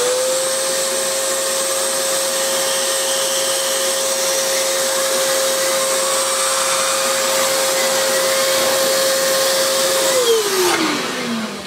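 Oreck XL handheld vacuum running with a Miele turbo brush attached, a loud steady motor whine and airflow rush with a constant hum that drops in pitch as the machine winds down at the end.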